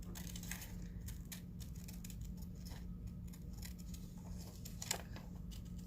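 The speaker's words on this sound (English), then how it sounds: "I'm going to go ahead and see if I can cut out this heart" Scissors snip steadily through a postcard to cut out a heart shape, a run of close, quiet crisp cuts with small paper rustles between them and one sharper snap near the end.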